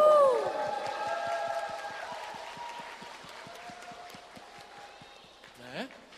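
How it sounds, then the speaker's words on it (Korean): Spectators in a cheering section at a 2016 Nalanda festival quiz contest clap in a steady, even rhythm. The clapping is soft and distant beneath a host's amplified voice, with a brief swell of noise near the end. "응원과 격려의 박수 한번 주세요."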